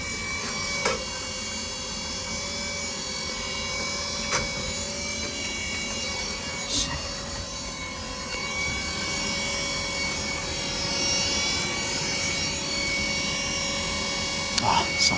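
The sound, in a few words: tankless water heater blower with tag hitting it, wheezing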